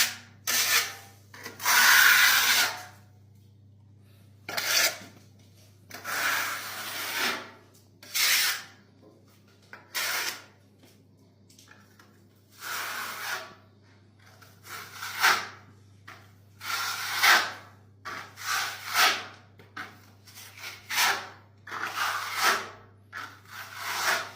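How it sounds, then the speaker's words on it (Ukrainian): GLINKO NATURAL plaster is rubbed by hand into a wall surface in repeated short, close scraping strokes separated by brief pauses, soft and dry. "беремо і починаємо її втирати в поверхню."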